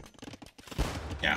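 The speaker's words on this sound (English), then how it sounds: "hand cannons coming in" Hand cannon gunfire in an Age of Empires match, a burst of overlapping shots crackling together in a loud volley with game battle noise.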